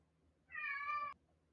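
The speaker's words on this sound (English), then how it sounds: "My cat is meowing, by the way." A domestic cat lets out a single clear meow lasting about half a second, close to the microphone and loud against an otherwise quiet room with faint background hum.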